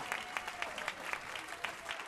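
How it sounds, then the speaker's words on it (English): A crowd at an anniversary gala claps for the Washington Ballet after a performance, individual claps standing out within a moderate, fairly distant round of applause. "Let's give another huge round of applause to the Washington Ballet."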